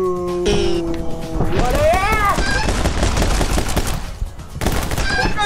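Pistol gunfire in the action video game My Friend Pedro, a loud, dense run of shots and impacts layered with game music and effects, while someone talks over the action.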